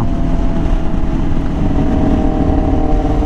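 A Yamaha R6 motorcycle with an extremely loud aftermarket exhaust idles with a deep, rumbling, continuous burble, close and loud, with no talking.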